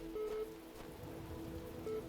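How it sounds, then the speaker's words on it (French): Rain falls steadily in The Talos Principle, a soft continuous patter on surfaces with a faint tonal hum beneath it and no voices. "Oh il pleut."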